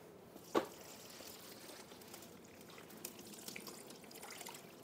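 Water runs into a pot for bone broth in a home kitchen, a faint, steady trickle with a brief louder splash near the start and occasional soft drips and clinks, with no talking.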